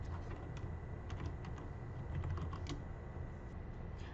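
Quiet, rapid tapping of keys on a computer keyboard, a steady run of soft clicks over low background hum.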